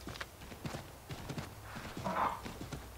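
Horse hooves in Assassin's Creed III clop along at a brisk, uneven gait, with a brief snort or whinny partway through, all fairly close and distinct.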